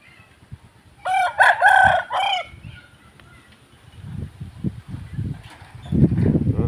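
Burmese fighting roosters kept at a rural village home crow loudly in a burst of harmonic calls, followed by softer, scattered clucking and low rustling.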